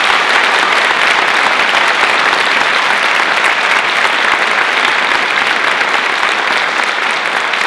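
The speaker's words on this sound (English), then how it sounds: "Huge round of applause for them." A concert audience gives sustained, loud applause to volunteering orchestra players at an intermission, with an even wash of clapping throughout and no speech.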